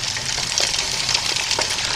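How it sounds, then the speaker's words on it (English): Steady close-up sizzling of eggs frying in a pan, a soft continuous crackle with occasional small pops. "Looks like a frying pan and some eggs to me."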